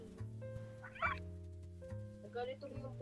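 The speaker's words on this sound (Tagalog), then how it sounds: "Nagalito mo yung pusa ko." An angry pet cat gives two short, strained meows a moment apart, faint and close, over a low steady background hum.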